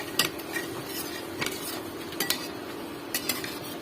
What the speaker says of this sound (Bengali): এটা দিয়ে এবার মিশিয়ে নেবো একসঙ্গে।